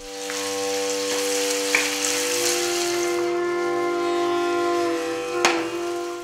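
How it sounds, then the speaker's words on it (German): Onions lightly frying in a pan for chicken curry, a loud, steady sizzle with a couple of sharp clicks of a utensil against the pan. "dann kommen schon die Zwiebeln hinzu, aber die werden nur ganz leicht angebraten"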